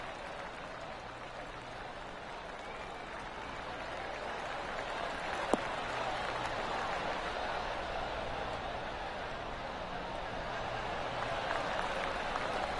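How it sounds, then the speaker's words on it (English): A steady, moderate golf clap from the crowd in the video game PGA Tour 2K23, polite and continuous, with a constant ambient hum underneath and a single sharp click partway through. "Oh, golf clap."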